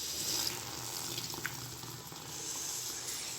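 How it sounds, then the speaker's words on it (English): Water pours into a pot of boiling pav bhaji with a steady hiss and sizzle lasting a few seconds. A faint bubbling sits underneath, and no one speaks. "So now I'm going to add little bit of water."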